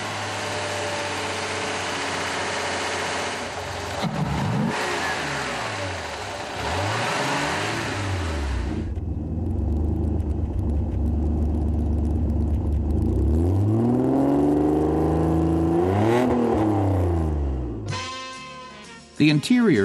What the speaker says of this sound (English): The Senator's 3-liter engine is mounted backwards, but it doesn't look wrong.